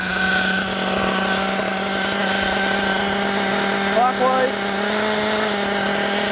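Nitro RC car engine idling steadily with a high, buzzing drone while its low-speed needle is leaned out, pitch edging upward; someone speaks briefly over it.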